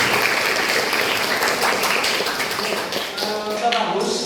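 Students in a classroom teaching session applaud, a brisk patter of many hands clapping that thins out toward the end, with a voice briefly heard.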